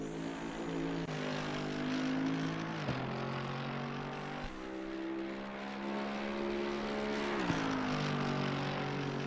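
Mercedes-AMG GT3 Evo race car engine lapping Zandvoort in Assetto Corsa Competizione, a loud, steady engine drone that climbs through the gears with sharp drops at each upshift, alone with no talk.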